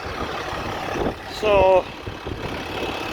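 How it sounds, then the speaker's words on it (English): A turbocharged tractor of over 100 horsepower hitched to a John Deere disc runs nearby with a steady rumble, broken by a brief louder whining burst, while someone speaks over it. "it's over 100 some horse tractor, turbocharged"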